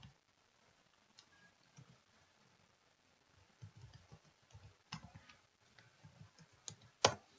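Quiet, close keyboard clicks tap out in short irregular bursts, growing busier toward the end with one sharper keystroke near the close.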